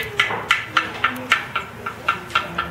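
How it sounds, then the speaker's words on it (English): Unfired clay greenware pottery for Delft ware being tapped, about ten light hollow knocks in an even rhythm, close and fairly soft with a dry, dull ring. "that's the sound of greenware."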